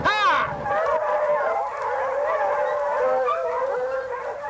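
A pack of hunting hounds bays and howls together during a fox hunt in the woods, a loud, continuous chorus of overlapping long, wavering cries.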